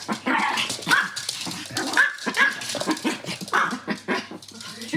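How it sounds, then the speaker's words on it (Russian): A Pomeranian puppy growls and lets out short, sharp yips and barks, close by, in quick irregular bursts. "Рычит на Ливию, она огрызается"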